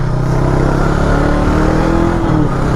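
A 2020 Brixton Crossfire 500 café racer's engine drones loud and steady up close, with a slight rise in revs partway through and no voices.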